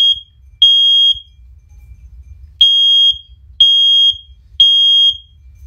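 A First Alert OneLink hardwired smoke alarm sounds during a test, giving loud, shrill electronic beeps in uneven bursts with brief gaps between them, over faint low background rumble.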